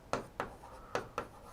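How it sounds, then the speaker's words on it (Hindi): A marker or chalk tapping and scraping on a board in four quick, distinct strokes, close and moderately loud, in a classroom setting with no speech over it. "मैं यहां पे एक बार लिख रहा हूं"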